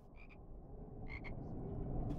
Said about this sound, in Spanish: Una rana de chocolate, por lo visto.